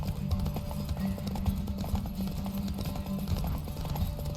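A horse gallops in The Witcher 3: Hearts of Stone during a race, with rapid, continuous hoofbeats pounding close and loud throughout and faint whooshing underneath.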